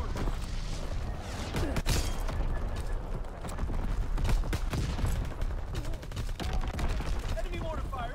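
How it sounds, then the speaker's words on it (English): Call of Duty WW2 multiplayer battle with enemy mortar artillery fire incoming, a busy stream of gunshots and thudding blasts from near and far running throughout, mixed with a voice speaking. "Enemy mortar fire incoming."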